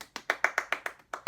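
Applause from an audience, a short burst of separate sharp hand claps in a quick, slightly uneven rhythm, close and fairly loud with no voices over it.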